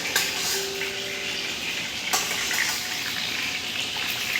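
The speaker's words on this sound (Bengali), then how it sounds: "বন্ধুরা আলুটা সুন্দর করে ফ্রাই করে নেওয়া চলছে এখন।" Large potato pieces frying in hot oil in a pan for a chicken curry, a steady loud sizzle and crackle close up, with a brief clatter partway through and a faint thin tone early on.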